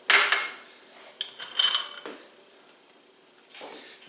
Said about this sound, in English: I'm going to whisk this just until it turns really thick